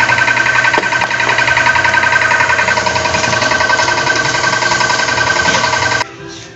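A repaired Honda Beat Fi motorcycle engine runs steadily with a buzzing, rattling drone, loud and close, then cuts off abruptly near the end, with no talking over it.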